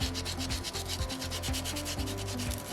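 Sandpaper rubs back and forth over a small soapstone Moai carving, making a close, steady rasping scrape with a fast, even rhythm of strokes and no voices.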